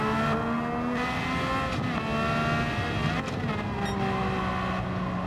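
A racing car in Gran Turismo 7 drones with a loud, sustained engine note, its pitch rising and falling as it shifts through gears over the whole stretch.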